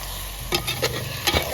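Spicy fish pickle with vinegar is stirred in a pan, producing a steady sizzle broken by three distinct scraping strokes of a spoon against the pan.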